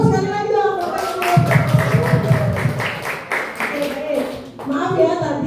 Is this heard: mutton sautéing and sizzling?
no